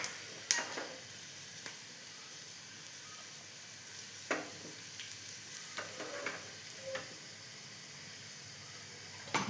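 Onions fry in a pan, browning for a Kerala erissery made with chana dal. A steady close sizzle is broken by occasional sharp clicks and scrapes of stirring.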